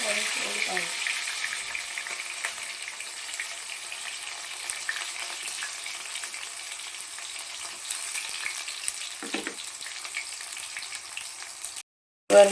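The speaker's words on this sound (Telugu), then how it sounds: "ఫస్ట్ ఆయిల్ కాగాక ఉల్లిపాయలు వేసుకున్నామండి" Onions sizzle in hot oil with a continuous close crackle and hiss that runs steadily throughout, with a few brief knocks near the start and middle, then a short silence and a bump at the very end.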